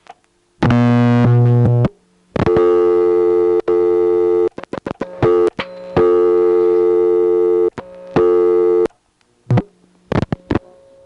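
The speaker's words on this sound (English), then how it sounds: "He's trying to reset the trunk with successively longer flashes" Switchhook flashes on a telephone line through a senderized step-by-step exchange in Monroe, New York, in 1977: loud steady tones repeatedly break off into silence and clicks, with gaps of varying length between the tone bursts.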